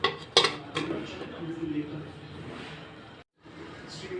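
A lid goes onto a pan of simmering catfish curry (magur bhuna) with a sharp metallic clank, plus a few lighter clinks of cookware and utensils, then a low sizzle beneath before a brief silence.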